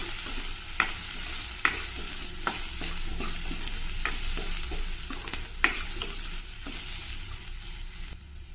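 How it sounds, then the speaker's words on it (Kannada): Onions and curry leaves fry in oil with a steady close sizzle, punctuated by sharp scrapes and taps of a spoon stirring against the pan, no voices. "ಈರುಳ್ಳಿ ಮತ್ತು ಕರ್ಬೇವಿನ ಸೊಪ್ಪು ಸೇರಿಸ್ತಾ ಇದ್ದೀನಿ"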